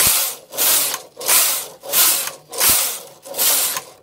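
A knitting machine carriage is swept back and forth across rows of a tension swatch, giving six loud, rhythmic whooshing passes about every 0.7 seconds, each ending in a clack, with no talking.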